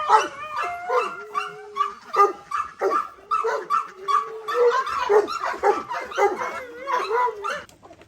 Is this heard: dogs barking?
yes